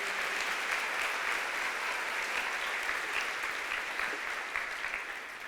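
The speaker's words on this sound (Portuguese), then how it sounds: "Dê um aplauso ao Senhor pela sua palavra." A church congregation applauds together in a continuous, even wash of clapping that holds steady for several seconds at moderate distance.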